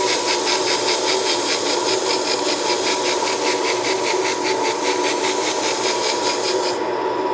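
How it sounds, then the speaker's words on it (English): A wire brush scrubs old sample off the wheel of a roller mill pulverizer in rapid, rhythmic rasping strokes, loud and continuous, before cutting off abruptly near the end. "working on the back side of that wheel, I then use the wire brush to clean off all of the old sample"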